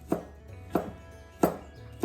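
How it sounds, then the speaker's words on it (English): Leftover smoked chicken is chopped small with a knife on a cutting board, three distinct close chops spaced evenly apart, with no talking. "what I'm doing is just kind of chopping it a little small"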